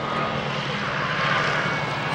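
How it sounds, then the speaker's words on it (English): Historic propeller aircraft of the Army Air Corps historic flight, such as the Percival Pembroke and Piston Provost, droning overhead at the 1998 Middle Wallop airshow, a steady, loud engine roar swelling slightly as it passes. "this demonstration by the historic aircraft flight of the Army Air Corps"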